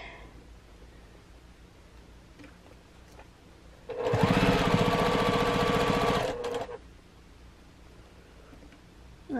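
A sewing machine stitches quilt pieces for a Dresden Plate table topper, running alone in one steady, loud, fast-whirring burst of about two and a half seconds amid quiet room tone.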